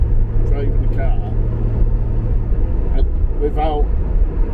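Reliant Scimitar car driving on a road, a steady low engine and road drone heard from inside the cabin, with a few faint voice-like bursts over the continuous rumble.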